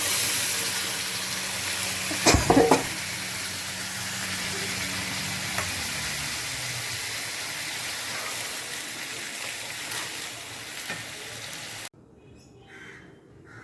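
Egg chana masala spices frying in a pan with a steady sizzle, a brief louder burst of crackling and clatter early on, then the frying settles to a softer continuous hiss before fading out.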